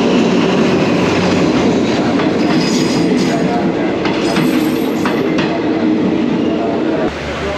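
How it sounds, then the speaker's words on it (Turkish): A Thai sleeper train rolls into the station, its loud, continuous rumble and clattering wheels filling the platform, with brief metallic screeches over the steady roar and a voice talking faintly in the background. "Tren geliyor bu arada."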